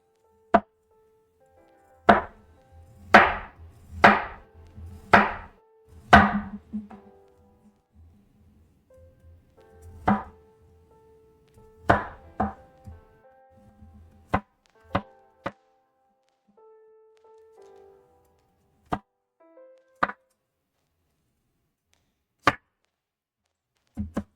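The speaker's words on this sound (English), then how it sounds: "We're going to cut it relatively thin." Knife chopping onions thinly on a cutting board for a potato and mince hash: a quick burst of sharp, close chops, then scattered single taps with long pauses between them, no talk.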